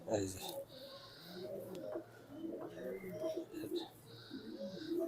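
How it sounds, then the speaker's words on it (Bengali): Young imported racing pigeons coo repeatedly close by in soft, low murmurs, while people talk over them. "এটা হচ্ছে আপনার বিদেশি কবুতরের বাচ্চা"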